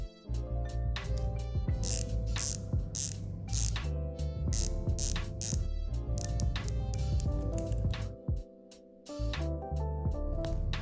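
The rotating bezel of a replica Rolex watch turning in repeated bursts of crisp, close ratchet clicks with brief pauses between turns, no talking.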